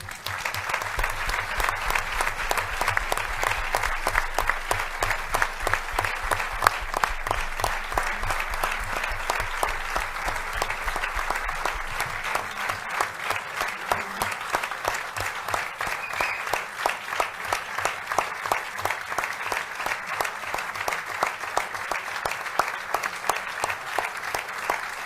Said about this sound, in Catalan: Jo demanaria un aplaudiment pel Néstor